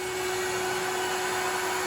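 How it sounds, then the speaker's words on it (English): A dog grooming stand dryer blows air in a steady, loud, unbroken whine with a constant motor hum, used to dry out a rinsed Honda Goldwing GL1100 fuel tank. "These are actually stand dryers that you use to groom dogs."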